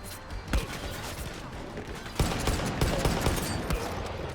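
Bursts of gunfire in the shooter game Far Cry 5, sharp cracks at irregular intervals over a constant dense background of game ambience and mechanical noise, loud and close.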